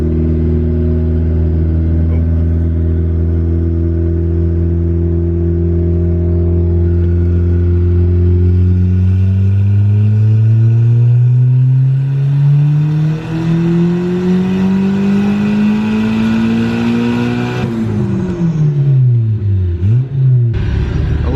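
A turbocharged Honda B16 engine on a dyno idles with a loud, deep drone, then climbs steadily in pitch through a long rev before dropping sharply back down, heard up close.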